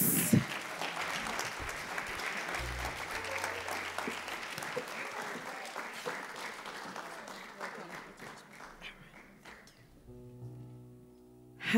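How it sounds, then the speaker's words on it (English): A crowd at a live gospel concert applauds with sustained clapping that gradually fades out, while a voice speaks over it and music begins near the end. "Please give her a round of applause."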